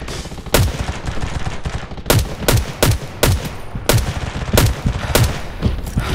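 Sniper gunfire in a mountain battle in a video game, six sharp shots spaced about half a second to a second apart over a steady rumbling background, with no talking.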